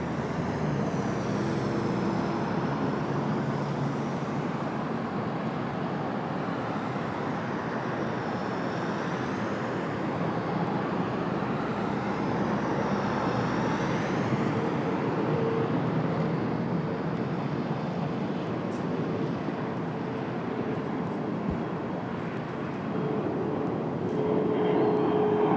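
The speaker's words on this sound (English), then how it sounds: "Got an American Eagle getting ready for departure, a CRJ." An American Eagle CRJ regional jet prepares for departure at an airport, a steady broad engine roar heard from a distance, continuous and even with faint background rumble throughout.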